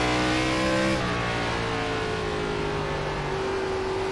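An ARCA race car engine in iRacing at Five Flags Speedway holds a loud, close, buzzing drone, then drops in pitch as the driver lifts and brakes and keeps running lower, with no one talking.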